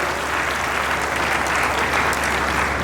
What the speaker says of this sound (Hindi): एक बार जोरदार तालियां उनके लिए बजा दें।